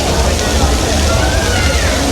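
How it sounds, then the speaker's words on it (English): Water sloshing and churning in a lazy river at a cruise port, a loud, continuous watery wash with a low rumble underneath and faint crowd murmur in the background. "And I believe this is a lazy river."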